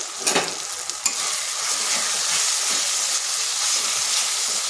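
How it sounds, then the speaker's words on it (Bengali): Ground turmeric, cumin, coriander and Kashmiri chilli powder sizzle and hiss steadily in a pan for soybean chana dal, with a few scraping stirs near the start. "মশলাটা বেশ ভালো করে একটু কষে নিচ্ছি।"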